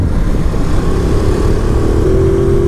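Ducati Multistrada 950 S, a 2019 motorcycle with the 113-horsepower twin engine, running steadily and loudly throughout with a rising tone near the end, under strong wind noise.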